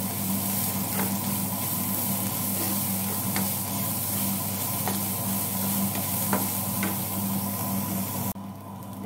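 Carrots sauté in a pan for rice flakes ada, giving a steady close sizzle and hiss with a spatula scraping the pan every second or so before the sizzling cuts off at the end.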